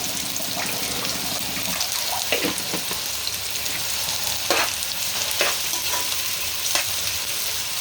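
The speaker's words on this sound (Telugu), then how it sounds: "మూత పెట్టుకొని ఉల్లిపాయలు సన్నని సెగ మీద మగ్గబెట్టుకుందాం" Onions with a pinch of salt cook in a pan for fish pulusu, giving a continuous close sizzle with several spoon taps and scrapes spread through it.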